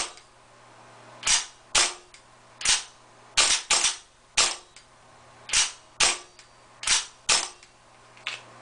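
Sharp cracks from a WA-type M4 gas blowback airsoft rifle, fired as single shots and short rapid pairs and triplets, loud and close with quiet gaps and no talk.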